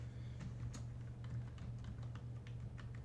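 Rapid, irregular keystrokes on a computer keyboard while text is entered in a brochure design, a steady run of light clicks over a low hum with no talking.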